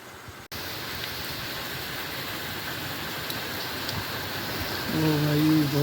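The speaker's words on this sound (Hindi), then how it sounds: "अभी बारिश तेज हो गया भाई," Heavy rain pours down in a steady, dense outdoor hiss with no break, and a voice briefly joins near the end.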